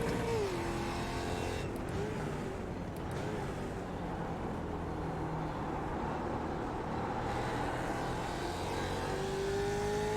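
A heavy race car drones steadily around a track, its engine note holding constant with slight pitch shifts as it rises and falls through the gears, loud and continuous throughout.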